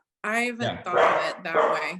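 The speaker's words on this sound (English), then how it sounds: "Sorry for the barking." A dog barks in short, loud bursts close by, overlapping a person speaking.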